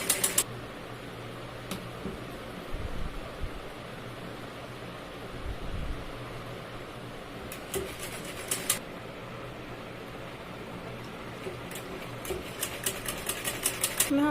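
A sewing machine running in short rapid bursts while stitching a button-placket blouse, a fine clicking patter over steady room hiss, fairly quiet and close, with no talk.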